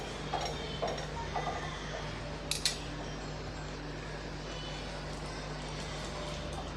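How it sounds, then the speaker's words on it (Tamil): Sautéed bitter gourd tipped into a boiling curry, with a few metal clinks of a spoon against the pot over a steady low bubbling hum, faint and close. "இப்போ நம்ம வதக்கி வச்ச பாகக்காயை சேர்த்துடலாம்"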